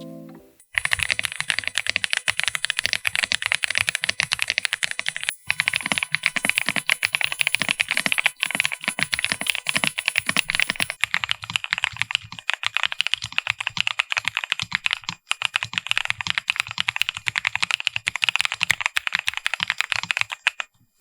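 Mechanical keyboards, an Ola F75 and an I Love B B87 fitted with I Love B linear switches, typed on steadily for about twenty seconds in a dense, continuous patter of crisp close keystrokes, with no voice over it.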